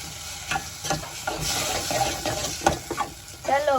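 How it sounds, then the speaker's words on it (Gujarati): A spoon scrapes and stirs crumbled bhakhri with sugar in a pan, in a series of uneven, close scraping strokes over a faint sizzle. "ભાખરી નાખીને હવે આપણે મસ્ત મજાનું હલાવી નાખશું."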